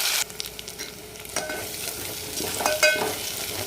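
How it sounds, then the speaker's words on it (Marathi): Masala spiced for a rich mutton curry, stirred and fried in oil in a pan, sizzling steadily throughout with scraping stirs and a few sharper clinks of the spoon, close up with no talking. "5 ते 6 मिनिट चांगलं परतून घ्यायचं. कंटिन्यू असं हलवत राहायचं"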